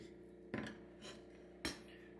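A knife cutting through bacon-wrapped steak on a board, heard as two quiet, distinct chopping knocks a second apart with a softer scrape between them, faint and close with no talk.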